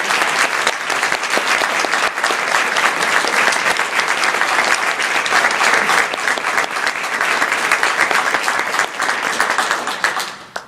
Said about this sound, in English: could we have one more round of applause for our candidates